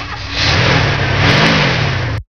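A car engine turns over and catches, then revs in a steady, loud drone for about two seconds before stopping abruptly.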